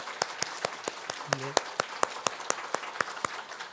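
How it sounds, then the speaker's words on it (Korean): A church congregation at a Sunday worship service claps in unison, with sharp, evenly spaced beats about four per second. A voice speaks briefly once beneath the clapping. "박수 한번 하겠습니다."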